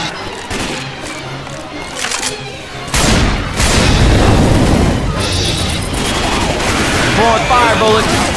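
Gunfire with fire bullets in the zombie shooter Left 4 Dead 2: rapid bursts and booming shots, loud and close, turning into a sustained fusillade after a short lull, with voices calling out over the action.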